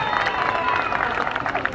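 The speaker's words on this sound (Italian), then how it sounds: "solo un applauso, grazie." An audience at a show breaks into dense, continuous clapping, loud and close, with crowd murmur and voices mixed in throughout.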